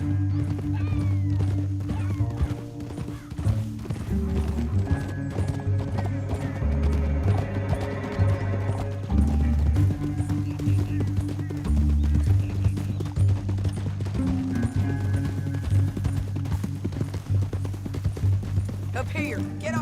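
Horse hooves clip-clop under a continuous bed of background music in the Western video game Red Dead Redemption 2, with the rhythm steady for most of the stretch and occasional pauses.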